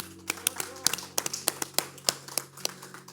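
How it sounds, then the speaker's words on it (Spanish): A small congregation at a church Bible study claps in scattered, uneven beats, soft and close, with a low steady hum beneath the sharp hand strikes. "Vamos a darle un aplauso al Señor."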